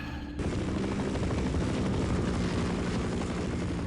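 A Half-Life helicopter drones in a dense, unbroken roar of rotor and engine noise, loud and near, holding steady after a quick start with no talk over it.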